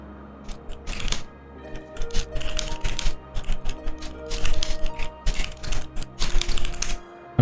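Rapid clattering keystrokes on a computer keyboard during a Final Fantasy XIV session, bursts of close clicks with short pauses between words, largely alone.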